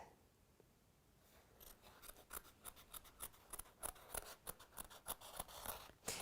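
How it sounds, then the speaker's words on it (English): Sharp scissors with a long, narrow nose snip fabric in a series of quick, close, crisp cuts, becoming a fairly fast, irregular rhythm after a brief quiet start. "It helps just to have a sharp pair of scissors with quite a longish nose."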